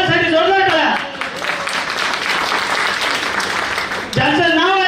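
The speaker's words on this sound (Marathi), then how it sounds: "तुमच्या सर्वांसाठी जोरदार टाळ्या" Seminar audience applauding for about three seconds, a dense steady wash of clapping framed by a speaker's voice at the start and end.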